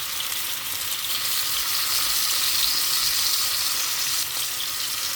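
Mushrooms sauté with tomatoes in olive oil in a pan, giving a steady, close, dense sizzle that holds evenly throughout with no talking.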